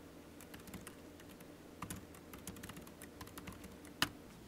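Soft typing on a computer keyboard while writing Python code, with light, irregular key clicks at a quiet, close level and one sharper tap near the end.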